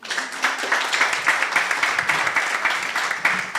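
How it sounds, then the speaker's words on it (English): Many audience members clap for panelists at a science forum, a steady, full crowd applause that continues evenly throughout without pause. "Let us clap for them very well, please."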